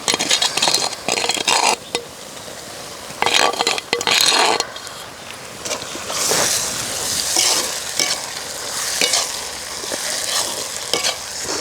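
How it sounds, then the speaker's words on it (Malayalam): Onions and tomatoes sauté in a pan for watermelon dum biryani, a loud steady sizzle broken by bursts of stirring and scraping against the pan, with no talking. "ഇനി ഇതിലോട്ട് തക്കാളി ഇടാം"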